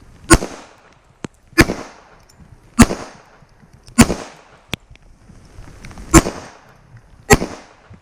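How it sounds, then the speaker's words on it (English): A 1911 pistol is fired offhand at a range, six loud, sharp reports at an even pace roughly a second apart, each followed by a short echoing tail. "So I'm going to do a little offhand shooting right now."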